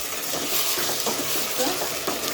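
Ginger-garlic paste frying on high heat in a pan for spicy mutton curry, a steady broadband sizzle with soft stirring scrapes, fairly close and continuous.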